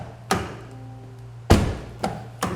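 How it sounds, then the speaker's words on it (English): Four solid thunks of a 2021 Jaguar XF's doors shutting, spaced unevenly over a couple of seconds, close and fairly loud in a quiet interior. "Now let's hear these doors."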